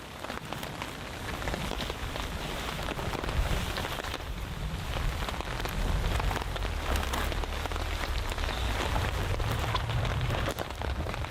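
Rain patters on a tarp over a solo campsite with a fire burning. A dense, even drumming of drops continues close and steady throughout, with no voices.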